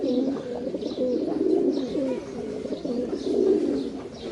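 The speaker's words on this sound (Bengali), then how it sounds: "তো খাকি কবুতরগুলো দেখেন মাসাল্লাহ অনেক সুন্দর কবুতর" Khaki pigeons in a cage coo close by, soft repeated rolling calls overlapping in a steady rhythm, with a faint higher chirp now and then and no talk.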